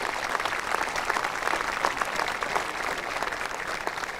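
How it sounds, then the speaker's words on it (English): Audience applause at a high school graduation ceremony, an even, crowded clatter of many hands heard at some distance, steady and unbroken throughout with no speech over it. "Please give them a round of applause."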